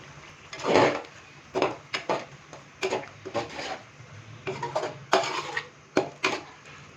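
Boiled chickpeas and yogurt get stirred in a pot, with a spoon scraping and knocking against the sides in uneven strokes, near and moderately loud, separated by brief pauses.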